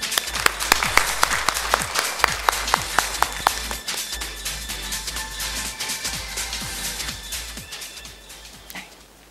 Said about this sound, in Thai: ขอเสียงปรบมือต้อนรับท่านด้วยค่ะ